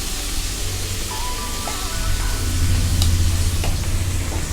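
Mutton biryani masala with tomatoes and salt being stirred in an oil-filled pan for a Seeraga Samba biryani, a steady sizzle with scraping strokes of a spoon, close and continuous.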